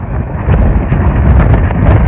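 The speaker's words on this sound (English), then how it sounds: "It's pretty windy out today." Steady wind buffeting a microphone outdoors, a constant low rumble with gusty surges throughout, no voices.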